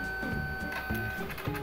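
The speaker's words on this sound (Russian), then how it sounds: "вот в приложении сейчас печатается синий слой" A Xiaomi Mijia photo printer runs a print pass, its mechanism whirring steadily with a high motor whine and soft rhythmic clicks. The sound is close and quiet with no voice.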